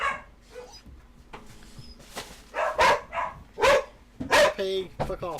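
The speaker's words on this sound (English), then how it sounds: "You might want to pause a minute because my dogs are going to bark." Several dogs bark and yip in bursts close by, loud and overlapping, with whimpers between, while people talk over them.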